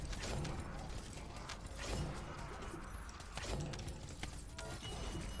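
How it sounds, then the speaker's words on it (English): Mechanical whirring and clanking as an assault turret operates in the video game The First Descendant, a dense continuous machine rumble with creaking, ratcheting texture, steady and fairly loud throughout. "Operating assault turret."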